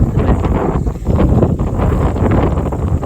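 Strong, steady wind roars and buffets without pause on the Chornohora ridge in the Ukrainian Carpathian mountains, loud and close, with gusty rushing across the whole stretch and no voices.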